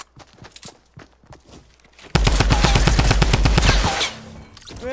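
Fortnite drum gun fire: light tapping footsteps give way to a loud, rapid burst of sustained automatic shots lasting about two seconds, then a softer trailing sound.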